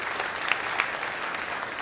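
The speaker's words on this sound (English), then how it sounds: "Please give him a big applause." Audience applause for an award honoree at a farewell function, a steady dense wash of clapping from a crowd that holds evenly throughout, with a couple of sharper individual claps standing out.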